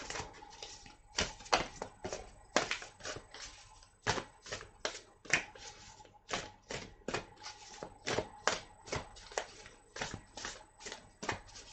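Tarot guidance cards shuffle by hand in a run of quick riffling bursts with short pauses between them, close and fairly soft, with no speech over them.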